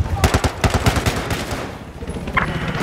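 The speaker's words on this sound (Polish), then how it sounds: "już coś do mnie strzela" Rapid automatic gunfire in Battlefield 4, a close burst of about a dozen sharp cracks in quick rhythm that fades into quieter scattered noise.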